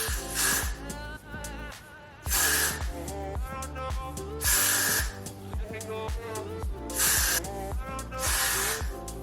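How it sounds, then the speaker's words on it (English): Got To Be glue spray is applied to hair during a bob frontal wig install, several separate bursts of loud, close aerosol hiss with short pauses between them. "now I'm going to add the Got To Be spray behind it"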